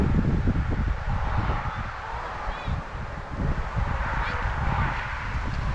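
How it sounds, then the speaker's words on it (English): Steady wind gusts blow across an open field of tall fireweed, with broadband rushing, some microphone buffeting and low rumble that carries on through the whole stretch, near and fairly loud. "It's kind of windy"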